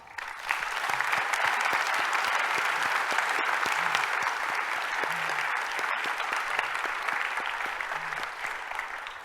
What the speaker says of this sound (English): let's give Brian a big round of applause.